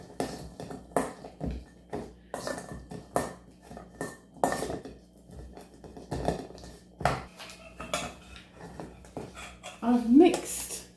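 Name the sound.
mixing meat with mashed potato in a bowl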